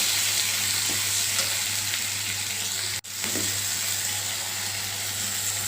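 Tomato sizzles in hot oil as it is stirred in a pan, a loud, even frying hiss with faint scrapes of a spoon and one sudden brief dropout midway before the sizzle resumes.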